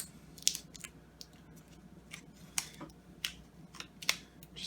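Scissors snip vinyl tint wrap for a Porsche third brake light, several short, sharp close-up cuts spaced irregularly over a faint background hum, with no talking.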